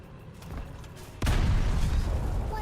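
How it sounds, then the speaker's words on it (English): A video game explosion from a combat game with a sound mod hits suddenly as a loud, deep boom, followed by a rumbling, crackling roar that stays heavy and only slowly tails off. "What a nice explosion."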